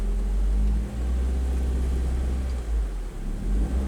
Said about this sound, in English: with carefulness we're exiting from the parking position